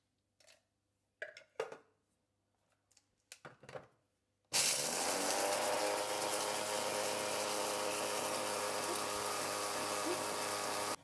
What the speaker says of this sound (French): je viens de moudre mes poivrons desséchés